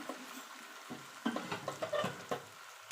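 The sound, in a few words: chira rasbora fritters frying in oil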